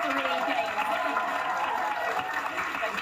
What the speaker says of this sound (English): Can we give Sue a round of applause?